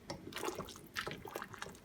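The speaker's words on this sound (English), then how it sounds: "This is a good amount of water." Water splashes and gurgles steadily as it is poured into a pot of lamb and vegetables for Moroccan couscous, heard close and continuous with no talk.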